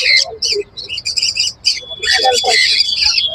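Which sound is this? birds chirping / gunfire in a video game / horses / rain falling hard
birds chirping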